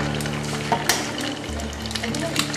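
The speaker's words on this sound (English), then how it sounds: "I'm going to crack two eggs." Eggs sizzle steadily in a hot pan while corned beef hash is being cooked, a continuous close frying crackle with occasional louder pops and no talk.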